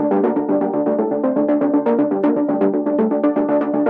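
A bright synth arpeggio loops in quick, even sixteenth notes over sustained tones, steady and full, with no talking.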